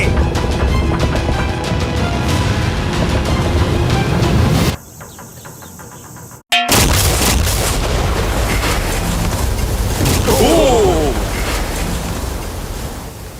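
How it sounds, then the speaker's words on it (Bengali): A huge sea bomb explosion set off by an RC boat near a yacht, heard as a loud, sustained roaring blast with a brief dropout and then rumbling, churning water noise, close and overwhelming. "এই বিস্ফোরণটা কিন্তু বিশাল হতে চলেছে"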